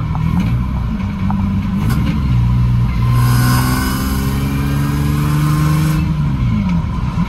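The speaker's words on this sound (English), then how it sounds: "I still got an exhaust leak. If you rev it, you can hear it." A Lexus SC300 engine with an exhaust leak revs up and holds, its loud, close drone climbing in pitch and settling back, with a rough rasp riding over the exhaust note.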